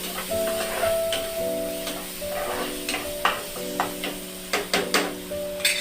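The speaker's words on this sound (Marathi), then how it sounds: "आपला कांदा टोमॅटो लाल झालेला आहे मी त्याच्यामध्ये कोथिंबीर टाकते पण चांगली फ्राय करून घ्यायची" Onion and tomato masala frying in a pan with coriander added, for a spicy dry bombil dish: steady close sizzle with a faint stirring tone and sharp scraping clicks of a spoon against the pan, growing more frequent toward the end.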